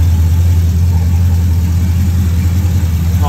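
A fifth-generation Chevrolet Camaro SS with a newly replaced alternator idles close by, a loud steady low engine rumble with no talk.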